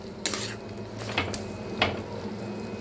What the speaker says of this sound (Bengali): তার সঙ্গে একটু ভালো করে নাড়তে হবে, সবগুলো মিশে যাচ্ছে।